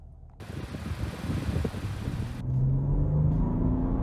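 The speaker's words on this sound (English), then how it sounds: "let's go ahead and take this 2025 Armada SV out on the road for a test drive." A 2025 Nissan Armada SV with twin-turbo V6 pulls out for a road test drive, cabin rumble and tire noise building, then a steady engine drone as it gets under way.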